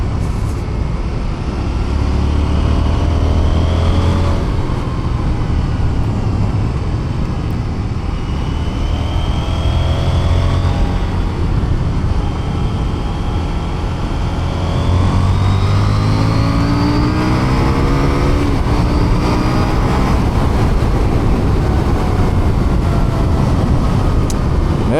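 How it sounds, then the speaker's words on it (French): Husqvarna Vitpilen 801 motorcycle engine while riding, a 95 hp version, revving up and down through gear changes with rising and falling engine tones, wind rush, loud and close throughout. "Et le moteur est vraiment agréable."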